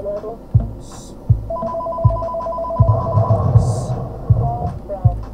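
A phone ringtone plays a repeating electronic melody over a rhythmic thumping beat from a game's music, steady and moderately loud.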